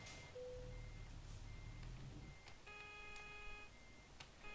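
Intermittent electronic reversing beeps from a truck in American Truck Simulator, several short repeated tones over a low engine rumble, fairly faint and without talk.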